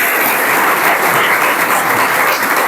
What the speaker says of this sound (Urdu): سب کو بھرپور تالیوں کے ساتھ مبارکباد پیش کرتے ہیں